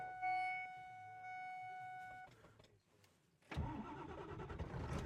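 An old truck with a 7.3 diesel engine cranks over: a chime and electrical whine first, a pause, then the engine catches and rumbles loudly and unevenly up close as it starts running.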